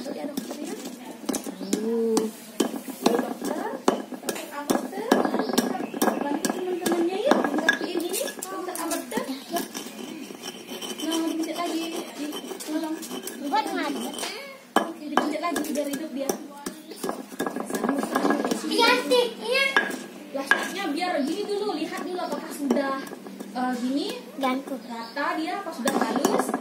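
Medicine ingredients are stirred in a container at a community health centre, with repeated clinks and scrapes of a utensil against the vessel, close and irregular, while people talk.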